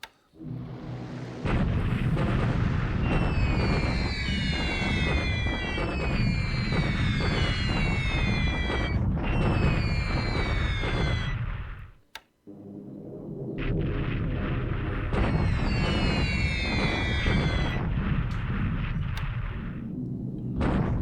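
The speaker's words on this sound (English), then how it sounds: "Our Helen's finally bombed." Bombing explosions in a World War II strategy video game, a long continuous roar of blasts and gunfire with whistling descending tones, briefly cutting out midway before resuming just as loud, with no talk.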